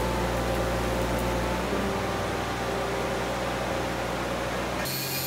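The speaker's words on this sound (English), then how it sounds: "You probably already figured it out from all the background noise, but I'm using a gas-powered welder." A gas-powered welder runs at a steady pitch while Christmas decorations are welded. Its engine gives a constant droning hum with fan-like noise. The sound holds even and close throughout, then shifts abruptly just before the end.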